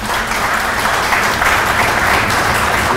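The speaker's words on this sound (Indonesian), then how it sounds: "Tepuk tangan buat mereka semua." An assembled audience at a police-organised gathering applauds volleyball players in a loud, dense, continuous round of clapping that stays steady from start to finish.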